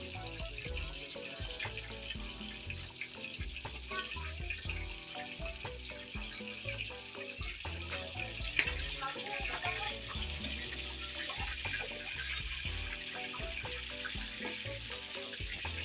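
Food frying in a pan, a constant hissing sizzle with dense crackles and spatters running throughout at moderate level, alongside a few knocks of kitchen handling.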